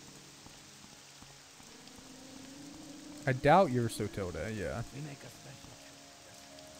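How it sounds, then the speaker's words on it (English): Rain falling in the video game Morrowind, a soft, steady hiss running throughout beneath someone talking and a brief in-game voice. "It's raining. Gross."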